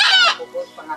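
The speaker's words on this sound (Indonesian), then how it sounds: "Amerika Macaw, guys" An American macaw gives a loud, raspy squawk up close, followed by a few shorter, softer croaking calls.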